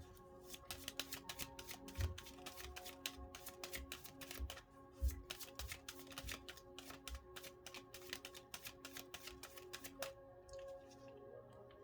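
A deck of cards is shuffled quickly and repeatedly up close, the riffles and snaps coming in a dense, crisp rhythm for about ten seconds before trailing off.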